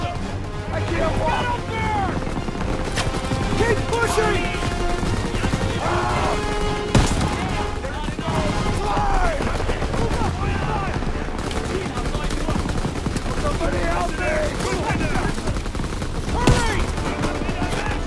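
Machine gun fire in the World War II shooter Call of Duty WWII: sustained, loud bursts of automatic gunfire mixed with explosions and battle clatter, while soldiers shout throughout.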